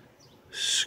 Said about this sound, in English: Squawking outside my bedroom window.